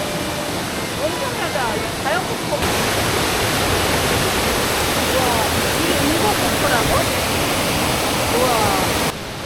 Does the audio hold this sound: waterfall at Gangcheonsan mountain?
yes